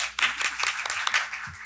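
An audience at a school funding meeting breaks into brief, close applause for a teacher being introduced, with scattered hand claps over a short burst.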